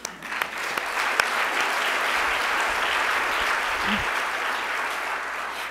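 Audience at a literary awards ceremony applauds steadily for an absent honoree, a dense, sustained wash of clapping from a large crowd that holds at an even level throughout.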